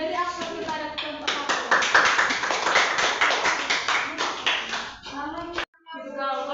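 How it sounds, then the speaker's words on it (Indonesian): A classroom of students applauding a group: a sustained burst of many hands clapping, loud and close, with children's voices talking before and after it. "Beri aplaus kepada kelompok"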